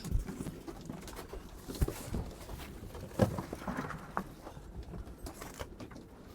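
Pigeons cooing in a loft with soft repeated low coos and light fluttering and pattering, fairly faint and spread across the scene with no talking.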